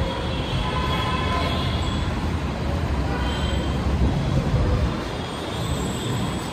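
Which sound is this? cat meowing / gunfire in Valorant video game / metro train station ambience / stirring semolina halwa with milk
metro train station ambience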